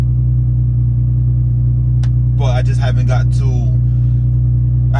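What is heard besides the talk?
straight-piped Nissan 350z exhaust, no resonators or mufflers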